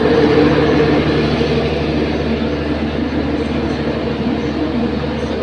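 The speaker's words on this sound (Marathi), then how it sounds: "गाईस आमची ट्रेन आलेली आहे आता. बघू शकता ट्रेन कशी आले." A train rolls into a station with a continuous heavy rumble and rail clatter, close and loud throughout.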